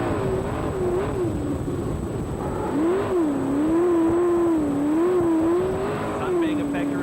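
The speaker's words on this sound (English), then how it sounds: "Cope with the power of the mighty sprint car with one hand." A sprint car racing on a speedway oval, its engine wailing in a high tone that rises and falls as it circles the track, loud and steady, with a commentator speaking over it.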